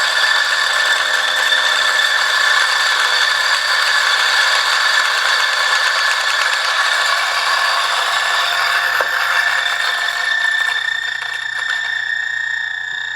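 A burr coffee grinder working through about 36 to 37 grams of beans, a loud, continuous whirring grind with a rattling edge that holds steady for the whole stretch and eases slightly near the end.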